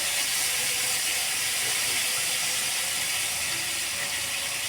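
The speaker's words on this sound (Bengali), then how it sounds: "এবার সিদ্ধ করে রাখা কাঁঠাল বিচিগুলো দিয়ে দিচ্ছি এর মধ্যে।" Boiled jackfruit seeds going into a pan of hot five-spice tempering, heard as a steady, even hiss of frying oil that runs throughout without pause, close and fairly loud.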